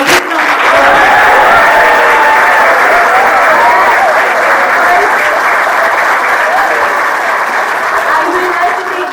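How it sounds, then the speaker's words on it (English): Loud, sustained applause from an audience for the office staff at a training program valediction ceremony for GST inspectors, dense clapping continuing throughout with a few voices beneath. "So please give them a big round of applause"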